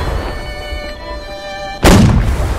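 A ship's cannon fires in the naval sailing video game Battenberg Voyages, one sudden heavy boom that bursts out after a quiet stretch and rumbles on as the sound decays.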